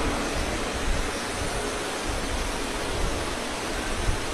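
Heavy rain pours steadily and loudly over an outdoor Hindu religious katha gathering, a dense continuous hiss without pauses or voices.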